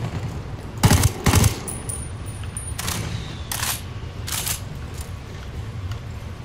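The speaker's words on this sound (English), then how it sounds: "here comes the damn mortar fire" Mortar fire in the video game Ghost Recon Wildlands lands as a scattered series of sharp, booming blasts: a close pair, then several more spaced out over a constant low background rumble.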